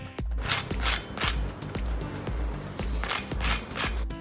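Crisp crunching and scraping as a hot, crunchy Belgian waffle is handled, in repeated bursts with soft knocks between, close and fairly quiet.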